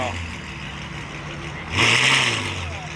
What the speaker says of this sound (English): We got this other Ferrari F12 that sounds incredible.